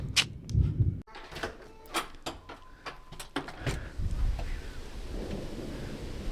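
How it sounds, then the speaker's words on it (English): Thunder rumbling ahead of an approaching storm, low rolling booms with sharp cracks spread through the clip, moderately loud outdoors with no speech. "It is really about to rain here. You hear that thunder?"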